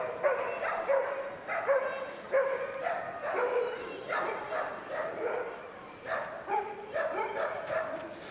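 At a Crufts 2013 dog training display, a dog barks repeatedly in a steady, rhythmic run of loud, close yaps and woofs that carries on through the whole stretch.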